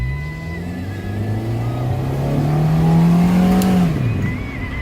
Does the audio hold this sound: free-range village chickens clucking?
no